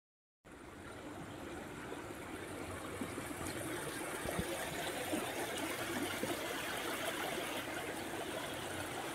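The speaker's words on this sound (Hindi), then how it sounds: "वैसे अगर इस नाले को ना देखो ना तो ऐसा ही लगेगा कि लगता है पास में कोई नदी बह रही है" Water rushing through an open drain in the early morning, a continuous even roar like a flowing river, steady and moderately distant with no voices.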